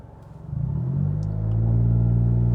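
A 2020 Honda City with an AZC exhaust and remapped ECU pulls away in S gear, a close, deep engine rumble that climbs in pitch and loudness as it accelerates, with no talk.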